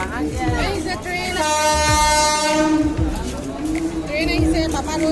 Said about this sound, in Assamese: আমাৰ আইতাহঁতৰ ট্ৰেইন আহিছে